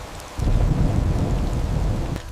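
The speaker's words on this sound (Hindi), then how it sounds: "बारिश तेज थी और बिजली कड़क रही थी" Heavy rain pours down in a stormy night scene, a loud, dense rush that surges in after a brief quieter moment and holds steady with rumbling thunder, no voices present.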